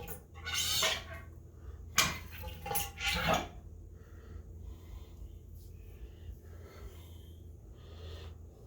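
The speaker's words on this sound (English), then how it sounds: "put it into a drain pan and pump it a few times to get it all out" A Yamaha XS1100 front fork is held upside down over a drain pan and pumped, giving a few wet squirting, gurgling bursts of oil close up, then quieter dripping and faint rustling.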